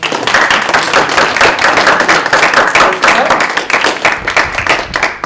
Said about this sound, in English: So, can we give Michael a round of applause?